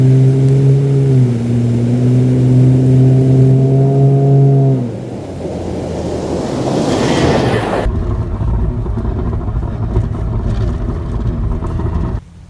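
A Jeep on 37-inch BF Goodrich AT tires accelerates across snow, the engine note climbing steadily before dropping into a rougher, broader rush of tire and engine noise that holds until an abrupt stop.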